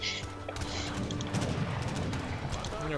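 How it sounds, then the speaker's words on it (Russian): Mortar and cannon fire in the Age of Empires 3 strategy game: dull booms and crashes of artillery mingle with busy battle clatter at moderate loudness, with someone talking over it. "А, мортира мне ударит."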